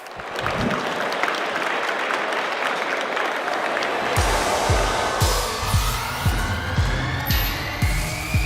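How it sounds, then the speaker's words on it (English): A large conference audience at the Slush 2022 startup event in a hall claps steadily for speakers walking on stage. The dense applause lasts throughout, and a pulsing, bass-heavy music beat joins partway through. "Huge round of applause."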